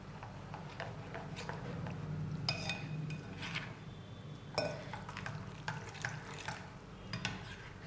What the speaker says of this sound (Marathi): भरपूर पाणी घालायचं आहे.